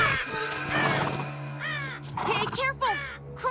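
Crows cawing in an animated horse-riding adventure series, several harsh calls rising and falling near and loud over a held musical tone, with voices from the show mixed in.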